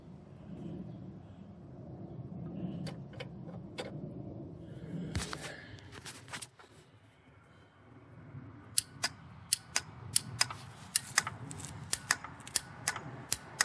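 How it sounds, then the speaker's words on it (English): A starter relay on a vehicle being checked for a short or bad points clicks in a string of sharp, close ticks over a low background rumble, with no talk. "Okay, the relay's working. It's clicking."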